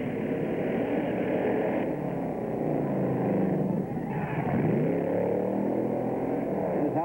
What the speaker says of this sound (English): Here we go. The last truck of the day.